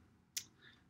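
A single sharp computer mouse click on images of a web page, close and brief, standing alone against a faint steady background hum.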